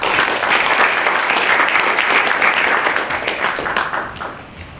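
Loud, sustained audience applause at a Korean youth forum event, dense clapping filling the hall and tapering off slightly toward the end.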